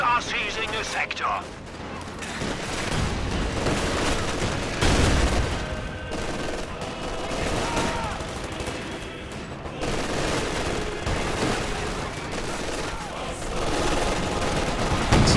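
Machine guns and anti-tank guns fire in a strategy video game, a dense, continuous battle of rattling bursts and heavy booms that runs throughout, with a voice talking over it.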